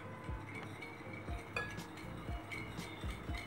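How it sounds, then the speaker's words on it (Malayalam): Ghee, sugar and milk powder being mixed in a pan for a wheat flour milk cake: soft, repeated clinks and scrapes of a utensil against the pan in a steady rhythm, fairly quiet and close. "പഞ്ചസാരയൊന്ന് അലിയുന്നവരെ ഒന്ന് മിക്സായാൽ മതി."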